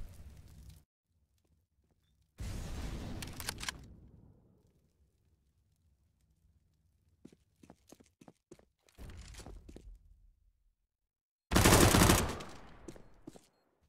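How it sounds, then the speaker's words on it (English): AK-47 fire in a Counter-Strike match on the Cache map comes in several separate bursts and sprays between quiet gaps, with footsteps and small clunks in between, and the loudest burst arrives near the end. "That's an AK-47."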